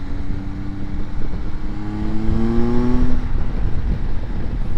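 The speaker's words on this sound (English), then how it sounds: "The sound this engine makes is just brilliant." A 2024 MV Agusta Enduro Veloce motorcycle engine revs and pulls away with a rising, throaty drone, loud and close, the pitch climbing and then easing off.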